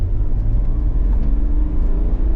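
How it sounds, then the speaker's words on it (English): An Ineos Grenadier engine hums steadily in drive with low rumbling road noise, smooth and even throughout, with no revving or changes in pitch. "It's a very, very smooth engine."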